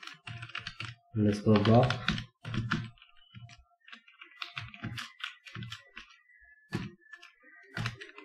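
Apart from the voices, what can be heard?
typing code on a computer keyboard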